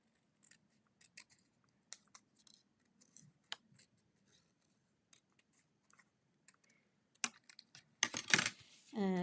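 Scissors make short, sparse snips through paper while a hat is cut out for a Halloween card, quiet and close, ending in a louder burst of rustling and crisp handling noise, with no speech.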